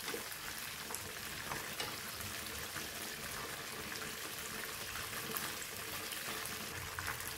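Chicken frying in hot oil over a moderate flame, a faint, steady crackling sizzle with scattered pops, continuous and unbroken, with no talk.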